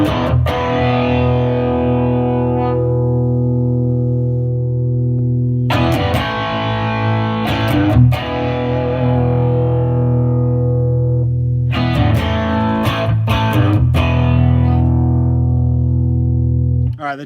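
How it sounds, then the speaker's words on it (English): An electric guitar through a warm, slightly crunchy Tweed Bassman amp model on a Headrush unit strums three loud chords, each left to ring out and fade slowly before the next. "Alright, the Tweed Bassman already sounds great."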